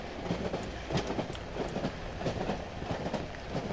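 Train rumbling along the tracks in the horror game Cry of Fear on a rainy night, a steady rolling clatter with faint squeaks and no voices.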